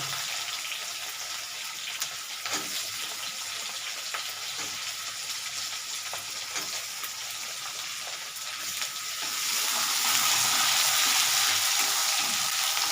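Onion dropped by hand into hot oil for a mixed-vegetable mourala fish chorchori, a steady close sizzle that swells louder and brighter near the end as the pieces hit the pan, with a few light stirring clicks and no talking.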